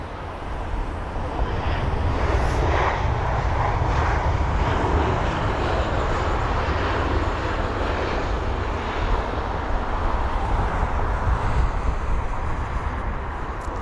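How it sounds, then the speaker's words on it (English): A Eurowings jet at London Heathrow gives a loud, steady, broadband engine roar that holds for the whole stretch without a break, with no voices over it. "I can't get away from that Eurowings jet."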